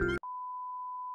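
A cooking timer at a semi-buffet Korean barbecue restaurant lets out a single, steady, sustained electronic beep lasting about a second, just after a moment of talking.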